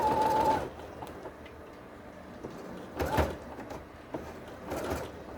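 A sewing machine stitches a zipper onto a cushion cover in short bursts: one at the start, then two more later, with quiet handling noises between runs.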